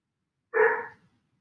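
A dog gives a single short bark nearby during a quiet yoga relaxation pose, sharp and clear against silence.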